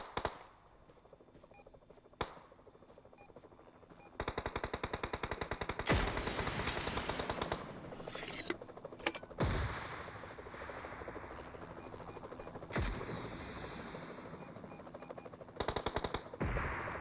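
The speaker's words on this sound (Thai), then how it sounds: "เอาปืนกลยิงยันกันยังตก" Machine gun fire in a tank and helicopter combat video game, with long rapid rattling bursts, some close and loud, broken by short gaps and single sharp shots.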